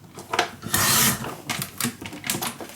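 Paper being cut for a handmade scrapbook mini album: a few short, crisp snips and rasps, with one longer sustained slicing stroke near the middle, close and clear with no talking.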